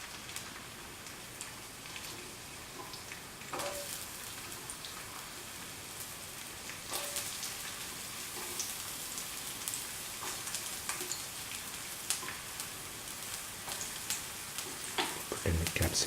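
Shallots sizzling in a hot pan for gobi manchurian, a steady crackling fry with scattered sharp pops and a clank near the end.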